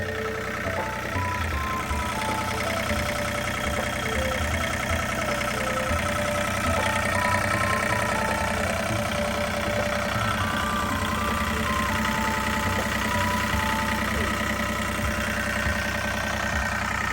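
The three-cylinder Isuzu 3LD2 diesel engine of a Hitachi CC135C vibratory roller idles steadily nearby, a low, even rumble with a faint knocking rhythm that continues unchanged throughout, with no voices.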